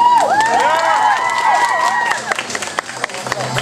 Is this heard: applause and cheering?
yes